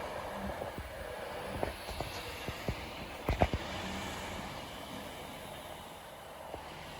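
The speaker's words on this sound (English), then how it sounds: "This is on the direct service to London Euston, as just announced." A Class 390 train on the direct London Euston service runs at Wigan North Western station, a low rolling rumble with a few sharp clanks and knocks over steady station background noise.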